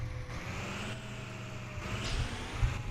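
A vehicle in the Rigs of Rods driving game rolls through a neighborhood with a steady, quiet engine drone and road hum, fairly faint and continuous.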